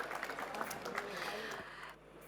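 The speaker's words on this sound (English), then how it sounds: "Give her a big round of applause and thank her for her patience with us this morning" An audience applauds a speaker at a health prevention talk, a crowd clapping steadily at moderate volume before fading near the end, with a voice speaking over it.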